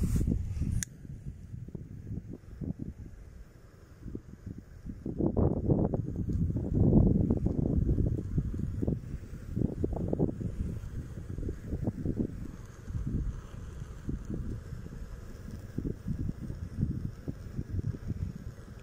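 Wind blows steadily outdoors during car fender repair work, a broad low rumble swelling in gusts and buffeting the microphone, fairly loud throughout with no clear talk.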